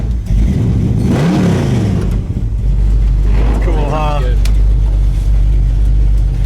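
A 1976 Pontiac Trans Am's engine runs loud and close, with rising and falling revs and a deep, steady rumble. Someone speaks briefly over it.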